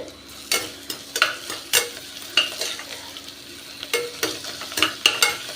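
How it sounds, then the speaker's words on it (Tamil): Mint and coriander leaves sautéed in oil and ghee for white biryani rice, sizzling steadily while a spatula scrapes and stirs in irregular bursts, close and fairly loud, with no talking. "ஓரளவு வதங்கிடுத்து புதினாவும் கொத்தமல்லியும் இதையும் போட்டு"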